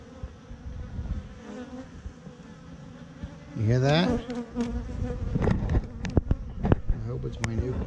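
A faint, rising piping tone from a queen bee cuts through the steady buzz of a hive, with a few clicks and a brief question spoken nearby.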